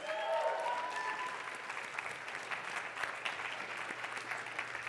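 Audience applause at a motivational talk, a steady dense wash of clapping from a crowd, fairly far and even throughout, with a faint voice briefly at the start.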